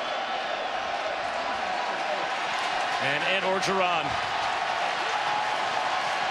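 Stadium crowd at the 2017 LSU vs BYU college football game, a broad steady roar filling the background under a commentator's voice, swelling briefly near a goal-line play.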